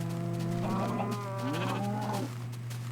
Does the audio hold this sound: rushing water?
no